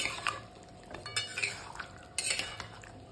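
Mutton being stirred in a pot while it browns, with a utensil scraping and clinking against the metal in short irregular strokes, fairly close and moderately quiet.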